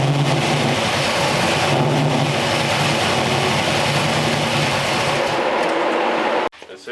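A Small Block Chevy V8 idles after a carburetor adjustment, giving a steady, loud, close engine rumble that holds evenly for about six seconds before cutting off abruptly near the end.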